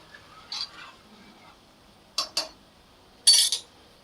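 Rice being stirred into boiling water in a pot for prawn biryani, heard as a few sparse metallic clinks and scrapes from a spoon against the pot, close by, with quiet pauses between them and no talking.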